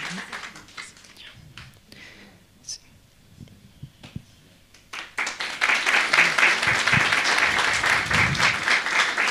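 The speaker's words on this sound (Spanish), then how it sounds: "con fuertes aplausos vamos a pasar al pastor para que haga la entrega." A church congregation at a Sunday service bursts into loud, sustained applause that swells after a quieter stretch of scattered claps and murmuring, filling the room steadily to the end.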